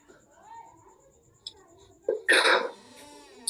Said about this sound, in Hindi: जब मैं सेशन कराता हूँ ये खांसी आ जाती है।